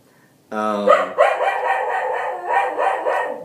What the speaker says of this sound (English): in the end, the dog barks